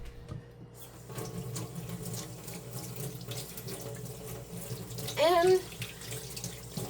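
Sponges are rinsed under a running kitchen tap, a steady close gush of water with a splashy surge near the end and a brief spoken word.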